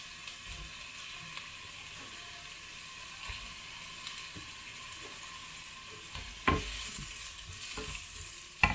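Courgettes fry quietly in a pan with a faint steady sizzle, light stirring clicks, and a few louder knocks from a utensil near the end.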